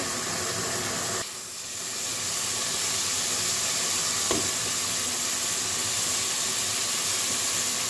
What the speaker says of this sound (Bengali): সব মশলা দিয়ে আমি এটা রান্না করে নিচ্ছি